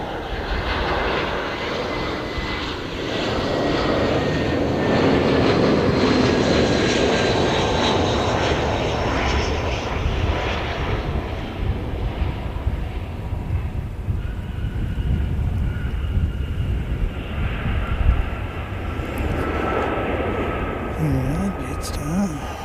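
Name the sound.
Jetstar airliner passing, live plane spotting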